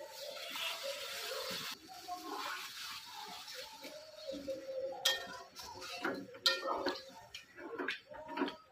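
A spoon scraping and clinking against a pot while curry is stirred after a sprinkle of garam masala, starting with a soft wet rush and then irregular metallic knocks, close and fairly quiet.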